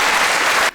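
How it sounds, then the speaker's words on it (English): A short burst of studio audience applause on QI, dense and even clapping that cuts off abruptly near the end. "Another round of applause"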